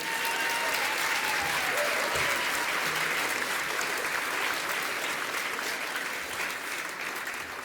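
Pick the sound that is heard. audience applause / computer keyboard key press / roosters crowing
audience applause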